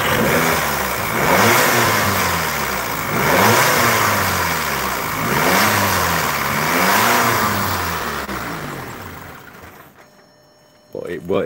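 An Audi TT 2.0 TFSI engine with a poor idle fault cranks and revs in repeated rising-and-falling surges, loud and close, then fades and stumbles near the end.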